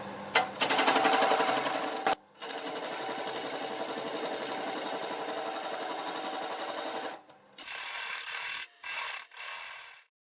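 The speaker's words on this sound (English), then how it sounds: "you will start cutting that off with a 1/2-inch bowl gouge. And I think we can do about 700 RPMs." A half-inch bowl gouge cuts a wooden bowl on a lathe turning at about 700 RPM, a loud, continuous rasping shear broken by short pauses as the tool lifts off and bites in again.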